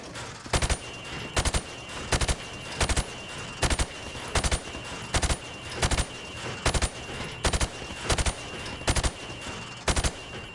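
Rapid gunfire at pop-up targets in the Call of Duty 4: Modern Warfare training range, short loud bursts of several shots repeating at steady intervals over continuous game background noise.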